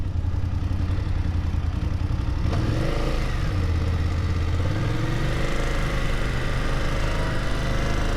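Engine of a rented motorcycle on the move through Spain, a steady low drone that rises and falls in pitch as the rider changes speed, loud and close throughout with constant wind rush.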